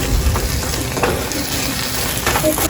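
Chopped capsicum frying in a hot pan, a steady close sizzle with soft scraping and stirring knocks as it is mixed, no talk.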